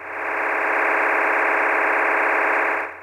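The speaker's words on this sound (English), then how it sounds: "I don't have a DMR decoder going, but they sound like this." Digital DMR radio transmission on the business band received through a software-defined radio: a steady, harsh buzzing data tone with a rapid warbling texture, loud and continuous for about three seconds before cutting off.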